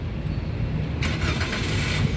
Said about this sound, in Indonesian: Sekarang kita coba nyalakan mobil ya.